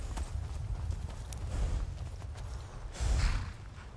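Horse hooves clip-clop across the ground in Skyrim, a steady run of soft, low thuds at moderate distance with a heavier cluster of steps near the end.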